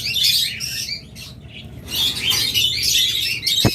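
Pet birds chirping and squawking in a bird shop, several overlapping bright calls in bursts, close and fairly loud, with a sharp click near the end.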